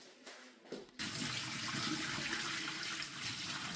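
Ukwa, African breadfruit, washed in a kitchen sink under a running tap: after a few soft clunks, water gushes on and pours steadily, close and loud.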